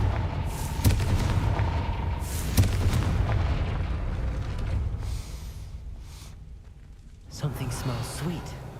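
Booming blasts of the Confringo fire spell in the video game Hogwarts Legacy, cast at a gate, with a couple of sharp hits followed by rumbling, crackling debris.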